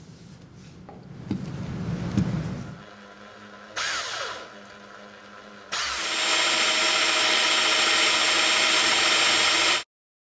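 A power drill drilling sheet metal whirs in short bursts, biting with a grinding squeal, then runs in one long, loud high-pitched spin before stopping abruptly.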